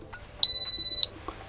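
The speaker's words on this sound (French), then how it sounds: "un bip, ça fonctionne" A single sharp, high electronic beep from an Acetech Blaster airsoft device switching on, lasting about half a second, loud and close, with faint handling noise around it.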